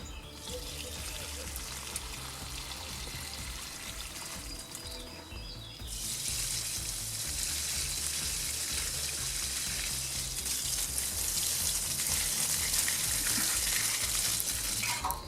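Collected rainwater poured onto camellias and azaleas planted in a garden bed, a continuous trickling and splashing that grows louder and broader about halfway through, steady without pauses.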